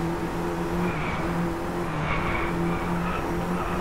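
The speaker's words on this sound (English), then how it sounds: "Wow, this is a very zippy car." A race car in Driveclub, its engine holding a steady droning note at speed for a few seconds, loud and continuous with no talk over it.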